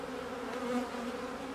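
Honeybees shaken into a nuc hive during a hive split, a close, dense buzzing hum from many bees, steady and continuous.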